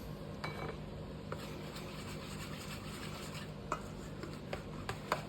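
Sourdough dough with whole wheat and rye flour being mixed in a bowl gives soft, close scraping and stirring, with scattered light clicks of a utensil against the bowl.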